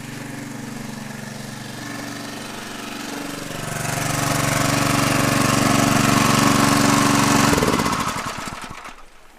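A small engine drives a water pump on a gold highbanker, running steadily and loudly, then revving higher for a few seconds before it is shut off and the noise dies away.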